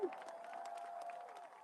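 Crowd applause and cheering for the mayor and the Jones family at a Dallas Cowboys training camp opening ceremony, a steady wash of distant clapping and crowd noise over a sustained tone and some voices.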